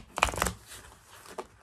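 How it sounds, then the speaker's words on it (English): A deck of tarot cards gets shuffled close by in quick riffling bursts, two dense flutters early and a short snap near the end, quiet and without speech. "Let me just do my little shuffle here."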